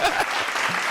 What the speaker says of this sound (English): We have the applause sound effect